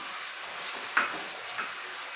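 Onions sizzle and crackle in hot oil in a pot, cooked for an olive oil fresh okra dish, a soft steady frying hiss with a short stirring scrape partway through.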